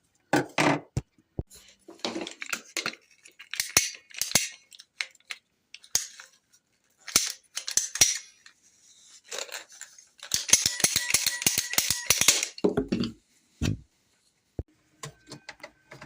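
PVC drain pipe being cut to length for a bathroom vanity P-trap, a sequence of dry, woody rasping and snipping bursts with short pauses between them, the longest stretch near the end, heard close with no talk.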